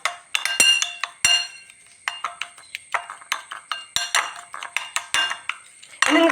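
Hair dye is mixed in a bowl with rapid, irregular clinks and taps of a utensil against the bowl, close and fairly loud.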